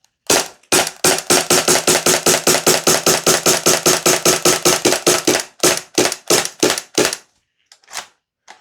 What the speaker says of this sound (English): that's 90 rounds out of that magazine, especially after just dumping it full auto as well